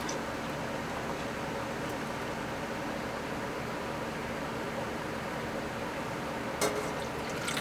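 Purple elderberry juice pours steadily into a measuring cup, a continuous liquid rush and fill sound with no one talking, ending in a few small clinks.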